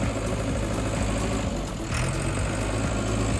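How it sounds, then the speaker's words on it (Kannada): A used 2013 JCB backhoe's diesel engine idles in a steady, loud, low rumble with a constant drone throughout and no speech. "ನೀವು ಗಾಡಿ ಸೌಂಡ್ ಕೇಳಿಸ್ತಾ ಇದ್ದೀರಾ ಅಂದರೆ ಕೇಳಿ ನೋಡಿ ಗಾಡಿ ಸೌಂಡ್ ಹೇಗಿದೆ ಅಂತ"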